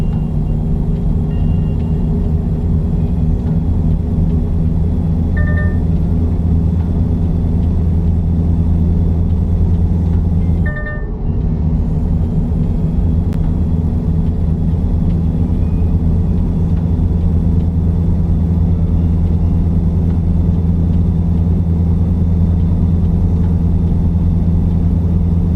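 Heavy truck engine in American Truck Simulator, driven fast on a highway at about 90, a loud steady low rumble and whir throughout, with one brief dip near the middle.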